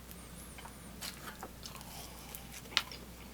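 A Papa John's XL Doritos Papadia is bitten and chewed very close in a quiet room, with faint soft chewing and one sharp crunchy bite near the end.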